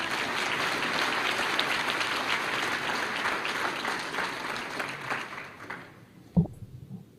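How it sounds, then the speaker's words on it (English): An audience at a state Teacher of the Year ceremony applauds for Jocelyn, a dense steady clapping that thins and fades near the end, followed by a single close thump. "Another round of applause for Jocelyn."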